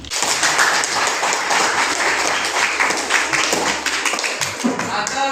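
Classroom applause during a lesson on moksha, a loud, continuous patter of many hands clapping close by, with voices murmuring underneath.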